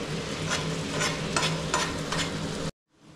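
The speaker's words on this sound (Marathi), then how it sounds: "सगळे एकत्र मिक्स करतोय." Softened onion, tomato and capsicum for pav bhaji are mixed together in a pan, a continuous sizzle with rhythmic scraping strokes about every half second before cutting off abruptly.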